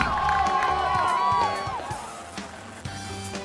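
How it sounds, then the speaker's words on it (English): A crowd cheers and whoops at a sports meet, with high shouts rising over a steady roar, then the noise thins into scattered voices. "Cheers and thunderous applause resonate for the participants"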